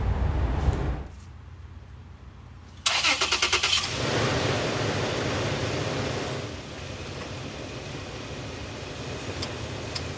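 A Toyota 4Runner engine turns over and starts, then settles into a steady idle, close and fairly loud with no talking.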